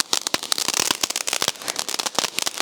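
Vishu firecrackers going off nearby, a rapid irregular string of sharp crackling pops and bangs, dense and loud, with no talk.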